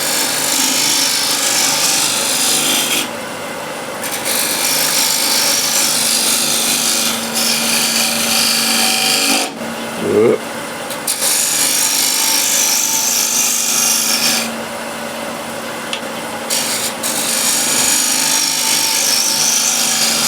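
A refiner pushed too hard against a wooden plate on the lathe gives a steady zipping scrape of wood being cut, with a brief louder burst midway and short quieter gaps.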